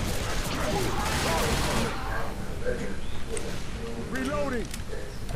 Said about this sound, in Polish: Eksplozje po całości.